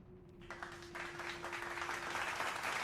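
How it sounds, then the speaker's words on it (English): A crowd's clapping rises from near silence into a steady, moderate patter of many hands, with a faint tone held underneath for most of it. "Why do you clap for that?"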